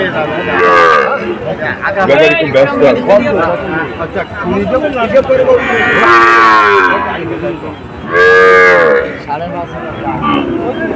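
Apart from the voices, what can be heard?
calves mooing at a cattle market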